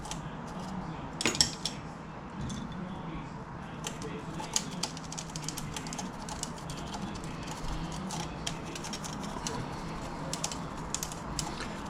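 Brushing and scraping crud from inside a 1943 Royal Quiet De Luxe typewriter gives scattered small clicks and metallic taps over a steady low hum, with a few sharper clacks near the start.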